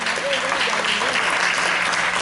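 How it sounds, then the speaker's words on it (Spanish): A church congregation claps steadily and loudly throughout, a dense continuous applause with some voices mixed in. "denle un aplauso al Señor Dios Todopoderoso."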